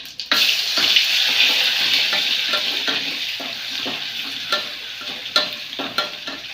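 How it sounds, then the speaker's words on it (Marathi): Garlic sizzles in hot oil with cumin and mustard seeds for a tempering, a bright, dense crackle close by that holds steady, broken by occasional clicks and spoon taps, with nobody talking. "तेल छान असं तापलंय. जिरं मोहरी घालते. हे कशी तडकावली का ते. थोडासा लसूण आहे, लसूण घालते."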